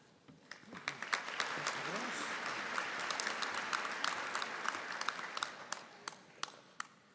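Graduation convocation audience applauds in a large hall, a sustained wash of many hands with sharp individual claps standing out, fading slightly toward the end.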